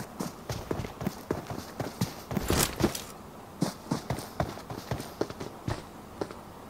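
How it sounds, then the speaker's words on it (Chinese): Footsteps of someone running nearby in a shooter video game, a rapid series of sharp, close thuds with a louder burst near the middle, heard without talking. "我听到附近有人跑步啦"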